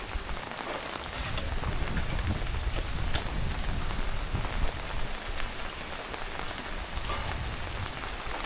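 Steady rain falls in a village, a dense, even patter of drops on surfaces close around, continuous throughout.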